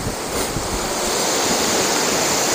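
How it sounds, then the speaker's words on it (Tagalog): Strong wind roars steadily outside a factory plant, a loud broad rushing sound that holds constant throughout with no talking. "Tignan yung tunog ng hangin niya."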